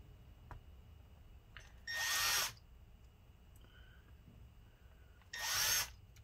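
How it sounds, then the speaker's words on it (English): A small power drill spins screws out of a Dell Inspiron 5575 laptop in two short, whirring bursts a few seconds apart, near and loud against a quiet room. "So it actually helps to spin the drill faster"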